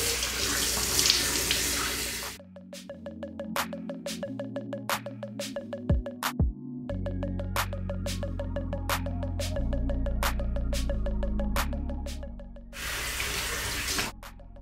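Water runs steadily from a bathroom tap into a sink during a face-washing routine, with clattering of items being set down and occasional ringing tones, all close by with no talking.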